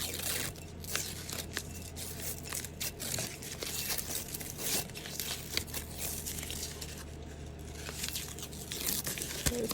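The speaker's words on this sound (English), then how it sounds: "let's just put this tape off of here" Heat tape being peeled off a sublimated Ciroc bottle: a run of quiet, crinkly tearing and crackling pulls, close and fairly soft, with brief gaps between strips.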